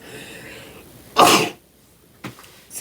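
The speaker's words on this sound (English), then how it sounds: "I knew I was going to sneeze." A single close, sharp sneeze bursts out over a quiet room, followed by a short fainter breath or sniff a second later.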